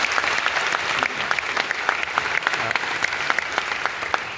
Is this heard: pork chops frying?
no